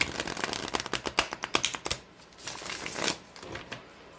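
Tarot cards with thin, smooth matte cardstock are shuffled close up in a quick riffle of fluttering snaps, followed by softer sliding and tapping as the deck settles.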